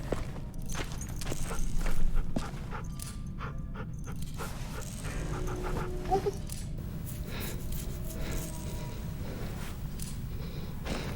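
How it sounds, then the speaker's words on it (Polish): A dog panting steadily in The Walking Dead: The Final Season game, a close, rhythmic breathy huff that carries on under soft footsteps and background ambience. "Piesek."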